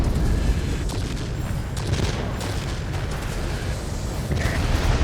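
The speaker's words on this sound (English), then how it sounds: "A little bit overkill with the bombs there," Bombs from an IL-20 attack aircraft blast ground targets in World of Warplanes, a steady wash of rumbling explosions and booming low impacts running continuously at moderate loudness throughout.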